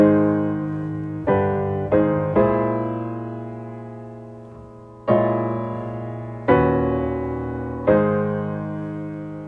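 A piano plays the first four bars of a song as a slow, plain melody of sustained chords, each note struck cleanly and left to ring and decay, in an even, unsyncopated rhythm with no voices.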